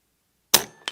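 A Niksan Escalade .22 caliber air rifle fires one sharp, close crack after silence, followed by a brief ring and a second short metallic click.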